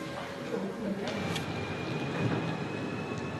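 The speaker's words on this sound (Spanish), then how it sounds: "Ya estamos preparados para la subida con el tranvía del Mont Blanc." The Mont Blanc rack railway tramway in France runs with a steady low rumble and faint wheel and rail noise, close and continuous, under quiet speech.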